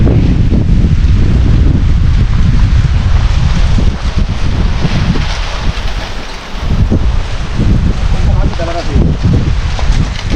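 Strong wind roars steadily across the top of Kanchanagiri, a rocky mountain near Ranipet, buffeting the microphone with loud, continuous rumbling gusts that barely ease.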